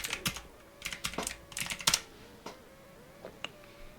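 Rapid keyboard typing during a sim-racing league broadcast, a close burst of sharp clacking keystrokes that thins out into a few scattered taps.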